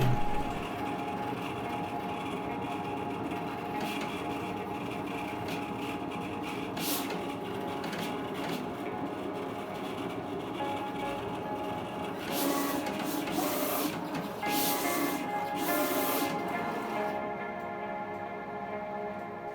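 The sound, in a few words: vinyl sticker cutter machine cutting stickers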